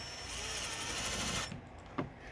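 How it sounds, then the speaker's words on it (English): A power driver runs steadily, driving screws into a plastic control panel box for an RV level control system, with a continuous whirring buzz that stops, followed by a single knock as the tool settles. "Now we're just going to put the screws in. In each hole. Remember, it's only plastic."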